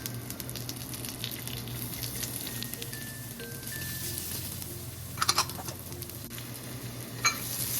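Ginger and garlic sizzle in a frying pan with a steady, soft crackling hiss that runs throughout, plus a few brief clinks of stirring near the end.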